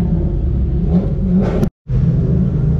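A Ferrari and a Corvette lapping Circuit of the Americas, a steady loud engine rumble and whir that swells, cuts out abruptly for a moment, then returns.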